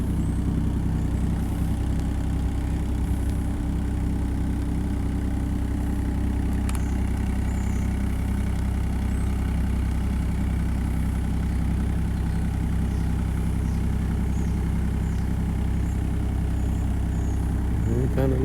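A tractor engine runs steadily as the machine is driven around in low gear with a heavy load, a constant low rumble filling the whole stretch with no talk over it.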